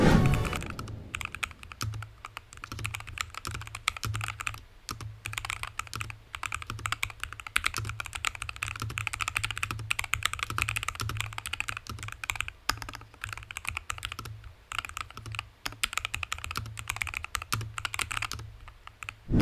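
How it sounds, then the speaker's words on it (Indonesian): Steady, rapid clacking of a Melgeek Made 68 Air mechanical keyboard being typed on up close, with brief pauses between bursts of keystrokes. "Kita dengar dulu typing soundnya sebagai berikut."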